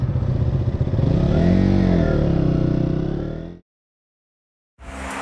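Motorcycle engine revving and pulling away loudly up close at the start of a riding exam in heavy rain, pitch rising as it accelerates, then cutting off abruptly before engine noise returns near the end.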